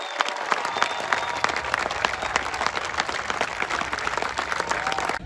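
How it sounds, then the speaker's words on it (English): Crowd at a baseball Hall of Fame celebration breaking into sustained applause, dense clapping and cheering from a large audience, steady and loud throughout. "let's hear it for an all-time great Hall of Famer, Buck O'Neill."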